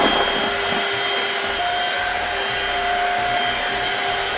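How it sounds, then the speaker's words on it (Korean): A Shark wet-dry vacuum cleaner sucking up egg shells and spilled liquid on a kitchen floor, a loud steady whirring roar with a high tonal whine, continuous throughout. "샤크 청소기는요, 물기가 있는 거나 또 건더기, 이렇게 한 번에 정말 계란 껍질, 저걸 한 방에 할 수 있는 청소기예요."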